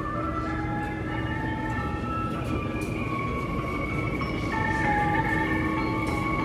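The Argo Muria passenger train runs past at Cikampek station, a steady loud rolling rumble with drawn-out high squealing and ringing tones from the wheels and rails, swelling slightly near the end.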